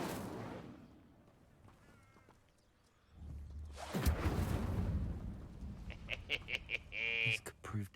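Incendio fire spell cast in Hogwarts Legacy, a whooshing, roaring burst of flame after a quieter stretch, followed by crackling and rapid sharp game effects, with a voice speaking over parts of it.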